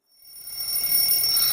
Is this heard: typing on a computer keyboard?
no